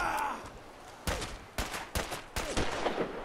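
Gunfire in the Fallout 4 video game: a handful of sharp shots spaced about half a second apart, moderately quiet, with a faint voice murmuring at the start.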